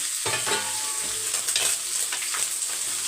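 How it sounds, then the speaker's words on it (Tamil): Grated coconut stir-fries in a pan until golden brown for vathal kuzhambu, a loud, steady close sizzle with scraping stirs from a spatula and no voices. "இது நல்லா அந்த தேங்காய் வந்து கோல்டன் ப்ரௌனில் வதங்கணும்"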